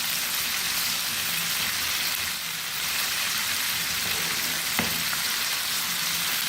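Chicken popcorn pieces frying in hot oil, turning golden brown, giving a steady close sizzle and crackle throughout with one brief clink partway through.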